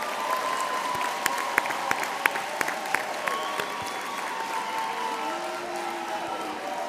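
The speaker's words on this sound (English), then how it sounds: "let's give all of our graduates a round of applause" Audience applause for graduates at a university spring graduation ceremony in a large hall, steady clapping with a few sharper individual claps standing out, moderately distant and sustained, with faint murmuring underneath.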